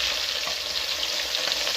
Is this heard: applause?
no